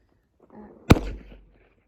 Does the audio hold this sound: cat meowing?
no